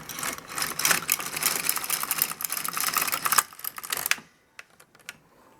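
An LK150 knitting machine carriage is pushed across a row, a dense rapid clatter of needles lasting about four seconds, followed by a few sparse clicks and near silence.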